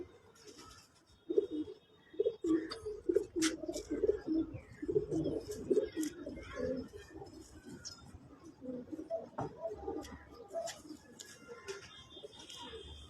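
Champion pigeons coo softly in a loft, repeated low rolling coos in an irregular rhythm, faint overall with occasional clicks and a voice murmuring in the background.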